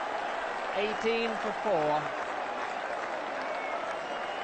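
A cricket crowd at Southampton roars and applauds after a wicket in a 1977 Benson & Hedges Cup match against Hampshire, sustained distant cheering and clapping with a commentator talking over it.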